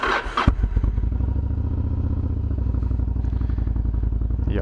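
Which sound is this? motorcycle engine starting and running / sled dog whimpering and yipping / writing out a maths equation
motorcycle engine starting and running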